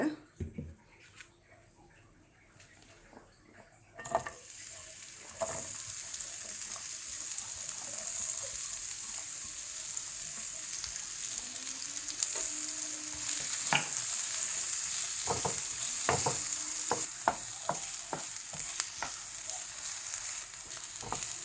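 Onions sauté in a little oil in a pan, a bright sizzle that starts suddenly and holds steady, punctuated by sharp scraping and clattering stirs from a spoon, close up.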